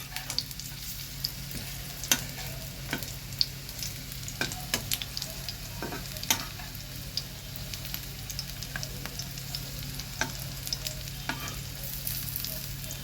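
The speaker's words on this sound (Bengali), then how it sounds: "আলুগুলো যেহেতু সেদ্ধ করা, সেহেতু খুব সময় আমার লাগবে না এগুলোকে ভেজে তুলে নিতে।" Boiled potato tikkis fry in a pan of oil with a soft continuous sizzle, broken by scattered sharp pops and spits, heard close and without any speech.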